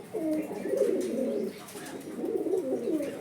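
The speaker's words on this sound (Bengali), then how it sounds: "সকাল সকাল কবুতরের রুমে আসলাম কবুতরের ডাক শোনার জন্য" Pigeons coo in an indoor pigeon room, a steady, close run of soft throaty cooing with a slight pause in the middle, and no talking.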